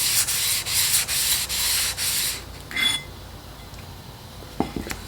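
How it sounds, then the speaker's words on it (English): Rhythmic abrasive scraping strokes of a sharpening water stone being flattened, close and fairly loud, repeat about six times, then stop, followed by a few light clinks and taps. "We flatten our water stone."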